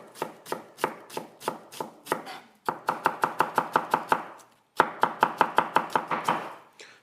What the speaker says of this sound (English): There we go, onions chopped.